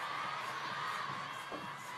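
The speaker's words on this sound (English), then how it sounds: "The crowd murmur here in the Infinity Arena" Steady crowd murmur fills a table tennis arena during a women's singles quarterfinal, a dense continuous wash of many voices at moderate distance with no single voice standing out.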